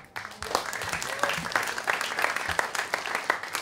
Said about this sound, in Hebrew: מגיע לה מחיאות כפיים.